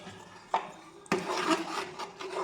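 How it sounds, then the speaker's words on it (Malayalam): A sweet mixture is stirred in a bowl, with a soft scrape followed by a longer burst of rubbing, scraping strokes that fades out, quiet and close. "ഇനി നമ്മൾ അതിനൊന്ന് ഇളക്കി കൊടുക്കട്ടെ."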